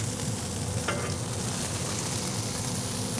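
Barbecue chicken bombs crisp in a hot pan, giving a steady, close, loud sizzle and frying crackle with a brief stirring scrape partway through and no voices.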